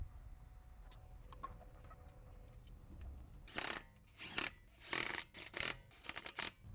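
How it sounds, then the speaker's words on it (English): Lug nuts being threaded and snugged onto a Subaru wheel during front axle replacement: a quiet stretch, then a series of loud, close, broadband ratcheting bursts in quick succession, with no talking. "Gonna hand tighten all the lug nuts."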